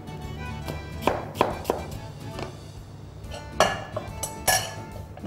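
Dirty dishes and cutlery are shifted aside on a home kitchen counter during cooking, a handful of scattered clinks and taps, close but fairly soft, over a low steady background hum.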